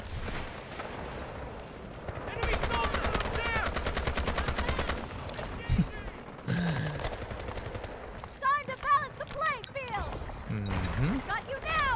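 Rapid bursts of automatic rifle fire from a ScarH in the video game Delta Force rattle loudly and close, with short pauses between volleys, while someone talks over the shooting.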